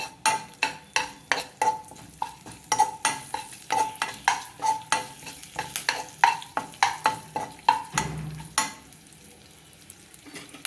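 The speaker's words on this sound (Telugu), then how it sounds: "పోపు దినుసులు వేగుతుండగా కరివేపాకు కూడా యాడ్ చేసి" Tempering spices and curry leaves fry in a pan for a cucumber and sesame chutney, giving a steady close sizzle broken by quick rhythmic clinks and scrapes of a spoon stirring against the metal, with no talking.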